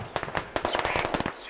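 Rapid gunfire rings out around a bunker in the military shooter Squad, a quick string of sharp cracks and pops in uneven bursts.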